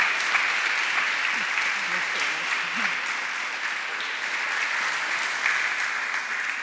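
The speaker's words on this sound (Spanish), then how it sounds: "quiero que les deis un fuerte aplauso a los dos" An audience at a congress against Islamophobia applauds in a dense, sustained round of clapping, steady and moderately loud throughout, with a faint voice underneath.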